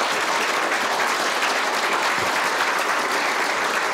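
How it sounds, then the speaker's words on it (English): Dense, steady audience applause fills a gala hall at an inaugural address, loud and continuous throughout with no pauses. "I want to give Mark and Rick applause for what they did to keep everything going during that time."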